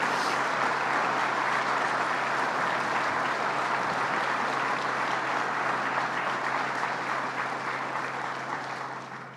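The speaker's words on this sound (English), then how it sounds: "Let's give them a round of applause" At a news conference about Alcoa jobs staying in Massena, a crowd applauds colleagues being thanked, a long, even wash of clapping that holds steady for several seconds before tapering off near the end, with a low hum beneath.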